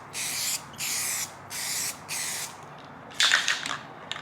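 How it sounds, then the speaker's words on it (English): Rust-Oleum gloss black peelable vinyl spray paint from an aerosol can, four even hissing bursts in a regular rhythm, then a shorter sputtering spray, close and fairly quiet. "So it's pretty much a peelable paint, kind of like Plasti Dip, but this is a gloss black. It's a Rust-Oleum. So we're actually just gonna hit it with this"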